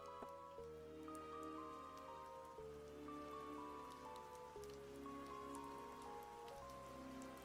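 Rain ambience within RuneScape video game music, a soft continuous patter of rain under sustained melodic synth tones that shift in pitch every couple of seconds, faint overall.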